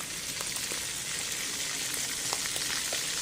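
Fermented fish (pla som) frying slowly in a pan, a steady close hiss of oil with scattered small pops and crackles throughout, no voices.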